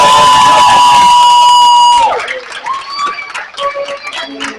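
Loud crowd cheering and shouting at a scholarship presentation event at an academy in East Legon, sustained over a buzzing tone, then breaking into scattered excited voices.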